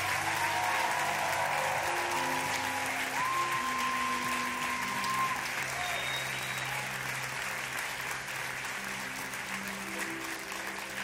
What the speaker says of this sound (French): Est-ce que l'on peut faire un tonnerre d'applaudissements